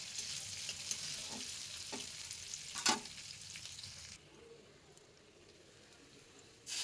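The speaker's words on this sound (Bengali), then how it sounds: "পেঁয়াজ কুচি ভাজা হয়ে গেলে দিয়ে দেবো অল্প কোচানো রসুন" Chopped onions and garlic sizzling steadily in a hot pan, with a few stirring scrapes and a brief clatter, then the frying fades quieter.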